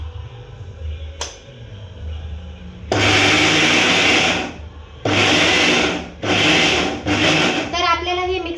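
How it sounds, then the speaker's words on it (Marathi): A kitchen mixer grinder crushes soaked wheat in three loud pulsed bursts, each running about a second or more with short pauses between, and a faint voice is heard before the grinding starts. "तर आता आपण हे मिक्सरमध्ये जाड बारीक असे करून घेणार आहोत."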